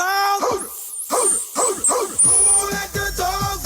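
A song plays loudly, its recurring dog barks sounding in a rhythmic series of woofs over music.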